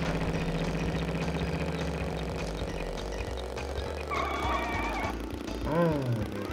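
Motorcycle engine in Crash Bandicoot 3: Warped during a time trial, a steady droning mid-pitched hum running throughout, with a rising whine near the end and other game sounds layered over it.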